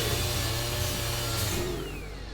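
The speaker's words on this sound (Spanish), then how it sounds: "La motosierra." Chainsaw revving in the video game Resident Evil 5, a steady buzzing drone with a harsh mechanical edge, fairly loud throughout and easing slightly toward the end, no voices over it.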